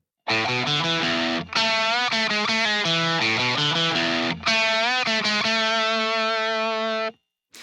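A distorted electric guitar with treble cranked up plays a bright, cutting riff with a harsh, treble-heavy tone, loud and alone, with short breaks between phrases.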